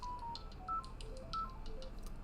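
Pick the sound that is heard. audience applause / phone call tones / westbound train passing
phone call tones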